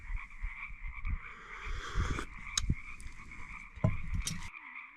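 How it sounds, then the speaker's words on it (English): A loud chorus of frogs croaks continuously in a quiet outdoor setting on Catalina Island, with a few nearby clicks and thumps. "Listen to those frogs, they're so loud."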